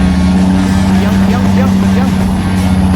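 A tugboat towing on high flood-season water, its engine a loud, steady droning roar with a deep constant hum that runs through the whole stretch while someone talks excitedly over it.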